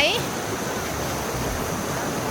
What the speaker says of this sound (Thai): ดูน้ำไหล